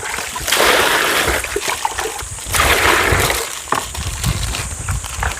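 Water splashes and sloshes in uneven bursts as laundry is scrubbed by hand in a basin of cold water with washing powder, close and fairly loud.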